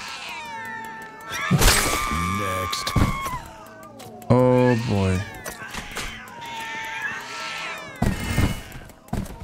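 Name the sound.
cats meowing in the video game POSTAL: Brain Damaged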